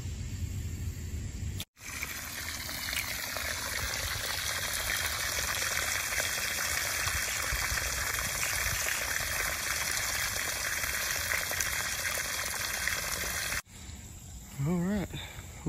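Water drains steadily through a culvert pipe from a newly dug pond, a continuous rushing gurgle heard up close, cut off briefly near the start and again near the end, with faint insect chirps and a short voice at the close.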